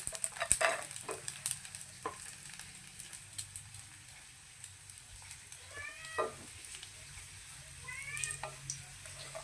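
Bombil, Bombay duck fish, frying in oil in a home kitchen: a soft continuous sizzle with scattered utensil clinks and scrapes, plus a few faint meow-like squeaks partway through.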